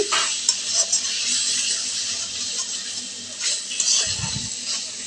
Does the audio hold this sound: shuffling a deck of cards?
no